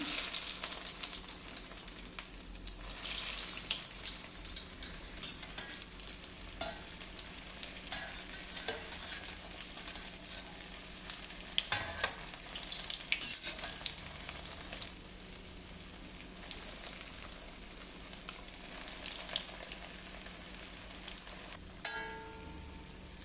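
Potato egg bondas deep fry in moderately hot oil, a continuous soft bubbling crackle with scattered small pops, steady and fairly quiet throughout.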